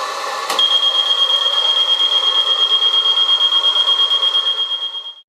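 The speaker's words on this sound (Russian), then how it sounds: "С помощью фена инициируем сработку извещателя и отключение одной группы." A smoke detector sounds a loud, continuous high-pitched alarm tone with a steady pulsing rhythm after a hair dryer blows on it during an electrical panel automation test. The hair dryer's broad blowing noise runs underneath the alarm.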